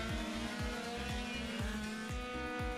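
Small high-revving 50-70cc racing scooter engines scream past in a rapid pulsing stream, accelerating hard and loud at a race start at Magny-Cours circuit.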